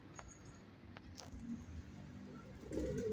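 Pigeons in a coop give soft, faint coos and rustles, with a slightly fuller burst of cooing toward the end against a quiet background.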